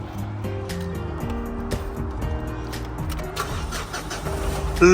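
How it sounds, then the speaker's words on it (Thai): A 2008 Mitsubishi Triton Plus pickup truck engine cranks and starts, then settles into a steady rumbling run with rhythmic low pulses; no one speaks. "ขอฟังเสียงเครื่องหน่อย"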